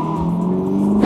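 A V8 car engine revs loudly and close by at a racetrack, a brief, steady, rising roar that lasts about a second.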